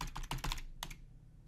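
Quick typing on a laptop keyboard, a brief close run of crisp key clicks followed by a single tap and then a fading quiet.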